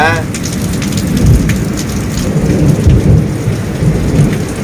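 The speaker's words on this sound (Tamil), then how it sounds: "பயங்கரமாக இடி அடிக்கி மலையில் வந்து நின்றுட்டு இருக்கோம்" Heavy summer downpour drums steadily on surfaces in hill country while deep thunder rumbles close and loud, rolling in repeated low booms beneath the constant hiss of rain.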